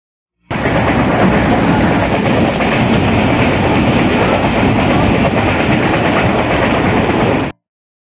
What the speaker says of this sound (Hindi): टंडोवाला यार से मीरपुर खास तक ट्रेन ने पूरी रफ्तार के साथ सफर किया